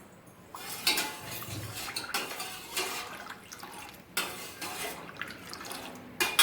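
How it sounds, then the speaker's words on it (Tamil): Boiling milk is stirred in a pan while it reduces for basundi, with a quiet, continuous clatter and scrape of a spoon against metal, bubbling liquid underneath and a few louder knocks. "பால் காஞ்சிட்டு இருக்கு, நல்லா கிண்டி விடுங்க"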